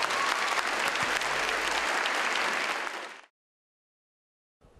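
Audience applause at a 2006 live concert in Myanmar, a full sustained roar of many hands clapping that runs for about three seconds, then fades abruptly into silence before a brief return of sound.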